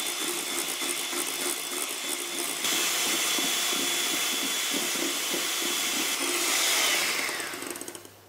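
An electric mixer beats cream and mascarpone with icing sugar, giving a loud steady whirring hiss that holds for several seconds and then winds down at the end. No one talks over it.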